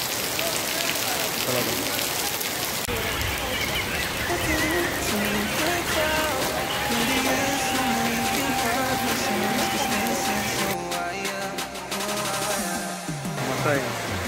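Heavy unseasonal rain pours steadily on an outdoor surface around a temple outing, a dense continuous hiss with close drumming that lasts throughout while people talk over it.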